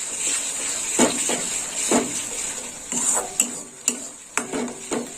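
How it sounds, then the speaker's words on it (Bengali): Onion with garlic and ginger paste being sautéed in oil for a prawn and pointed gourd dish, heard as a low sizzle under a steady high hiss, with repeated scraping clinks of a spatula against the pan. "ভালো করে তেলের সঙ্গে পেঁয়াজের সঙ্গে কষে নেবো।"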